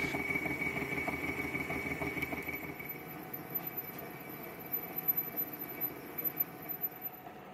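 A lathe bores out a brake drum with a boring bar held in a fixed tool post, giving a steady mechanical hum with a faint high whine and light irregular cutting chatter, no voices.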